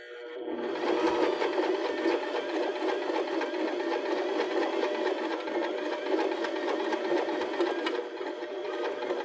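Sewing machine stitching a cork fabric petal for an embellished pillow, running continuously and steadily at close range for several seconds without pause.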